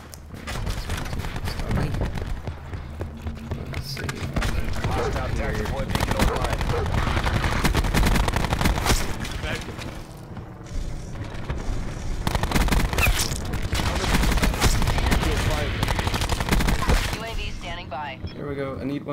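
Light machine gun fire in Black Ops 4, loud sustained automatic bursts nearly continuous for the whole stretch, with brief pauses and a voice talking over the shooting.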